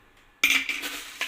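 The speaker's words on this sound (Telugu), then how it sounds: "రాళ్ళు ఉప్పులు వేస్తున్నానండి." Coarse rock salt crystals dropped into a fish curry mix in a vessel: a sudden gritty clatter and rattle that tapers off, then one small clink at the end.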